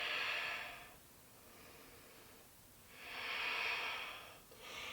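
Slow yogic breaths during a vinyasa flow class, each long airy inhale or exhale swelling and fading in a steady rhythm, close and alone with no talking.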